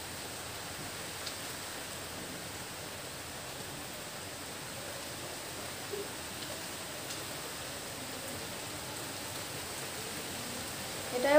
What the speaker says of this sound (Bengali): বাইরে বৃষ্টি হচ্ছে তো ওই জন্য ঝমঝম করে আওয়াজ হচ্ছে।